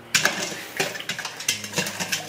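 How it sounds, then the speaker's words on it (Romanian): A utensil stirs citric acid into cold water to dissolve it, giving a series of sharp, close metallic clinks and scrapes against the container in an uneven rhythm. No one speaks. "Trebuie agitată ca să se dizolve."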